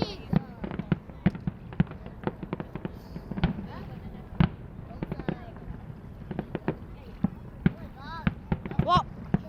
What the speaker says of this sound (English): Those were big fireworks.